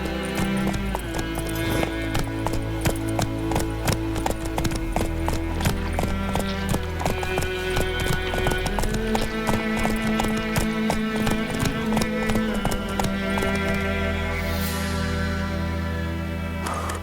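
Roach the horse galloping in The Witcher 3, a steady rapid clip-clop of hooves throughout with occasional snorts over a continuous game music bed.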